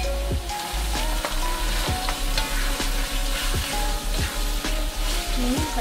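Flower-cut squid frying in sambal in a wok, constant loud sizzling with regular stirring scrapes of a utensil, heard close up.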